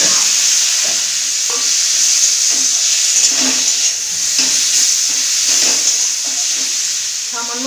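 Chilli, turmeric, coriander and cumin powders with chopped tomato sizzle and fry in a pan, a loud continuous hiss broken by regular scraping strokes of a spoon stirring, close up, no talk.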